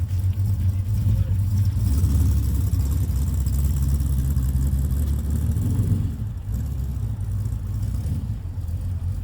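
A Lamborghini Countach idles roughly after a hard start-up, giving a steady low, lumpy engine rumble close by that drops slightly in level partway through.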